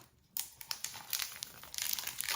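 Dollar Tree ribbon being handled to tie a bow, giving close, steady crinkling and rustling in short bursts after a brief quiet start.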